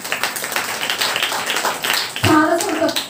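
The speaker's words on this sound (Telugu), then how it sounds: "చప్పట్లు కొడదాం వాళ్ళిద్దరికి." A church congregation claps for two people at a sermon gathering, a burst of close, overlapping hand claps, with children's voices and talk mixed in.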